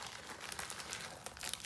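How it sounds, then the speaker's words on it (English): Plastic packaging bag being torn open by hand while unpacking a purchase, a close, continuous crinkling and ripping with sharper bursts near the end, with no talking. "Only reason I go to the gym to open plastic bags."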